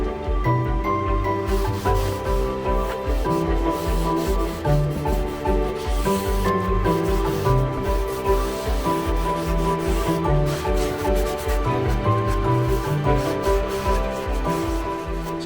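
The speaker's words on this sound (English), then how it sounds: "We'll just do a bit more sanding." Wood is sanded by hand before oiling, with steady rhythmic rasping strokes close by, repeating continuously throughout.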